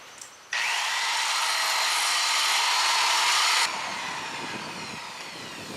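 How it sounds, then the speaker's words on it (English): An angle grinder grinds down high points on a surface, spinning up abruptly into a loud, steady high-pitched whine for about three seconds before cutting off and winding down. "I'm going to take the grinder. We're going to grind down a little bit on these high points."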